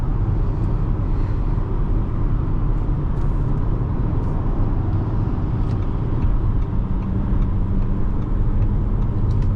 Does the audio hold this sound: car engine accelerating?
yes